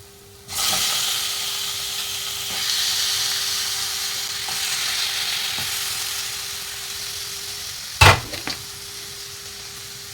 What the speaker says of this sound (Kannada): ಇವಾಗ ನಾನು ಇದಕ್ಕೆ ಚಿಕನ್ ಹಾಕ್ಕೊಳ್ತಾ ಇದ್ದೀನಿ